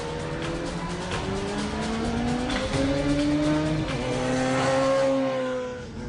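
A Radical SR3 race car with a 1300cc Hayabusa motorcycle engine, a very light and low machine, drives fast, the high-revving engine rising and falling through gear changes, loud and close.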